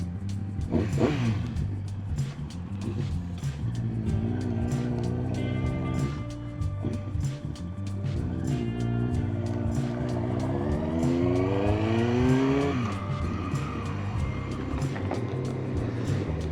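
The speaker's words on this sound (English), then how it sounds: "look on this car behind me" A car engine revs and accelerates close behind on a Birmingham road, recorded from a ZX9R motorbike, with rising and falling gear changes over a steady rumbling drone.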